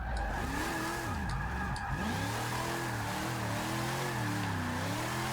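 A Plymouth Prowler drifting in the racing game Forza Motorsport 6, its engine revving up and down with wavering pitch while tires squeal and skid continuously, loud and steady with no talk.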